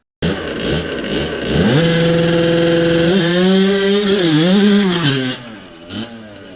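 A dirt bike launching at 10,000 RPM with launch control: a sudden loud close engine blare holds high, then rises in pitch through the shifts while pulling away, fading with a brief final rev.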